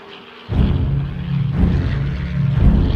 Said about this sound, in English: the sound of a piston-powered, propeller-driven aircraft of World War II in Korea on your left